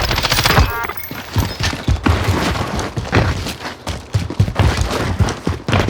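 Dense gunfire fills a first-person shooter match, rapid overlapping shots, automatic bursts and thuds continuing without pause, loud and close throughout.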